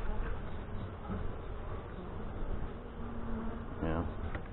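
A dense hum of honey bees buzzes close by at a struggling hive of Saskatraz stock in northwest Wisconsin, with faint voices and a brief tonal sound in the background.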